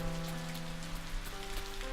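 Rain falling in the video game Boundless, a steady dense patter of drops on surfaces with a constant wash over a low tonal game background, no talk.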